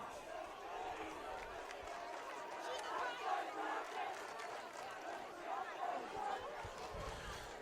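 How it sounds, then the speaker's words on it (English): A high school varsity football crowd in the stands at a night game, a steady distant roar of many voices with rising cheers and shouts throughout. "BR crowd has stayed in it the entire time, too."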